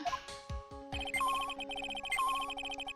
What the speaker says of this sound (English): That's the sound of the metal detector signal bouncing off.